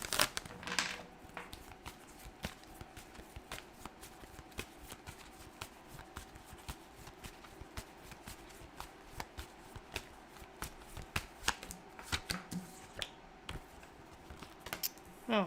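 Tarot cards are shuffled and drawn in a steady run of soft riffling flicks and taps, close and quiet, continuing throughout without talk.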